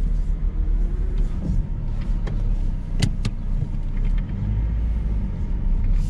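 A Ford Transit van reversing, with a low engine rumble throughout and a few sharp knocks and clunks near the middle.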